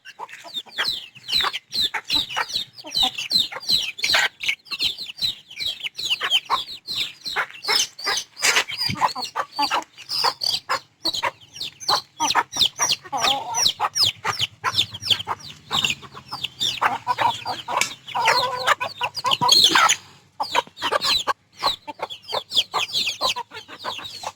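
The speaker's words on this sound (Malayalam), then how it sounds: "ഇവരെൻ്റെ കയ്യിൽ നിന്ന് തന്നെ ഭക്ഷണമൊക്കെ കഴിക്കണ കോഴികളാണ്" Pet hens that are used to being fed by hand cluck continuously at close range in a busy, overlapping chorus of short calls, with a few louder squawks and no talk.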